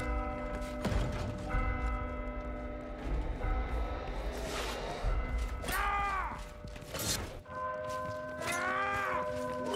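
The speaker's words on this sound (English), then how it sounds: "Can one of you please ring the bell?" A bell rings in the Warhammer Vermintide game, several resonant struck tones with long ringing tails, mixed with creaking mechanical sounds and game effects.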